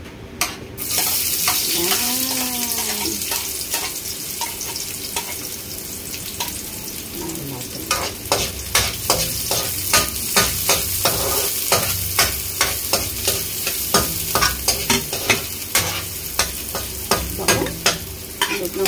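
Ingredients for beef bone kaldereta sautéing in a pan, a steady sizzle broken by rapid, rhythmic scrapes and clacks of a spatula stirring, close and loud, with a brief voice-like tone near the start.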